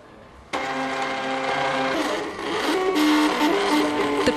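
A desktop 3D printer building a small chess piece runs steadily, its stepper motors whirring in a sustained, tonal buzz that shifts pitch as the print head changes direction, close and loud with no talking.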